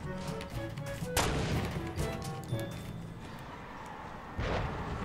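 Gunfire in the Fortnite battle royale game: a loud close shot followed by a burst of several rapid reports and a later second blast, layered over game ambience without speech.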